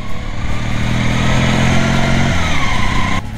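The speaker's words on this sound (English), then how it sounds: "I'm driving a fucking modded mower with skis and a fucking cool exhaust, man, on a freaking snowy road." Modded lawn mower fitted with skis and an aftermarket exhaust, driven on a snowy road: a loud, continuous raspy engine drone with a steady rumbling pitch that drops and shifts near the end.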